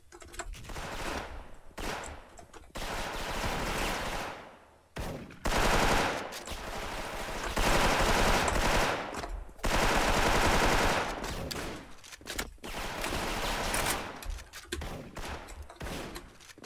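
Gunfire from the online shooter game Special Force with an M4A1 rifle, with loud, dense automatic bursts and rapid volleys repeating close up across the whole stretch, separated by short gaps.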